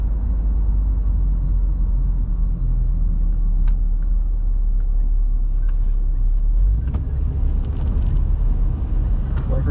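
A 1967 Rolls Royce cruises along the road with a constant low rumble of engine and tyres, loud and close from inside the cabin, with a few faint clicks and a deeper surge near the end.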